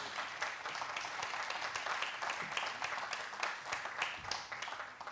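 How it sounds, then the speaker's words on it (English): A crowd at the Hydrogen Africa Egypt 2025 conference applauds steadily for several seconds, a dense wash of clapping that tapers slightly at the end. "a round of applause for that, please."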